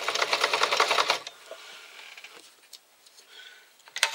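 A sewing machine stitches around a fabric pouch, giving a close, rapid mechanical rattle for about a second, then stopping; scattered soft clicks and handling taps follow.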